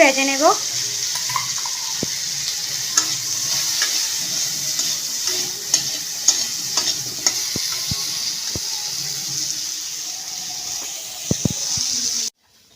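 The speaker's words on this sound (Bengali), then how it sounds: "তো বন্ধুরা এখন আমি ফুলকপিগুলি ভেজে নেব তার জন্য একটু হলুদের গুঁড়ো লঙ্কার গুঁড়ো আর লবণ দিয়ে দিলাম" Cauliflower florets frying in oil with turmeric, chilli powder and salt for vegetarian biryani, a loud continuous sizzle with scattered spatula clicks and scrapes close by, a voice briefly heard near the start, ending abruptly.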